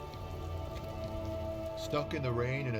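Rain patters steadily in the Disco Elysium game world, a continuous hiss of drops under a voice that comes in partway through.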